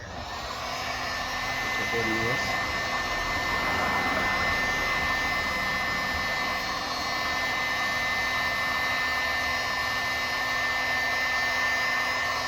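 A heat gun blows a steady, loud whooshing roar throughout while warming double-sided tape on a carbon fiber rear splitter for a Mercedes-Benz C204/W204, with a brief faint sound near the start.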